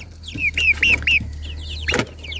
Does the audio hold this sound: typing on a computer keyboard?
no